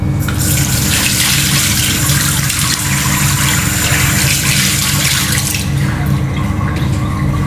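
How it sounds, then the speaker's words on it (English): Tap water runs steadily into a bathroom sink while a face is being wetted, a loud, close, continuous rushing splash that eases off near the end. "I wet my face first, to make my face moist, which I'm going to do right now"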